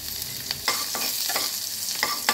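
Bitter gourd slices and garlic sizzle in hot oil in a pan, a steady frying hiss broken by several sharp scraping stir strokes, close and moderately loud with no talking.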